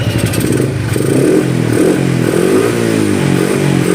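A Yamaha X1R Limited Edition motorcycle idles and revs up close, its engine note climbing and dropping in a couple of throttle blips over a rough, clattery idle, loud and alone.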